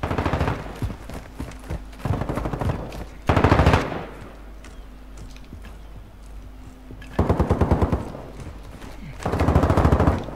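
Gunfire in Call of Duty MW2 Warzone DMZ: loud bursts of rapid automatic fire come in several volleys, separated by quieter stretches with distant shots and background game ambience.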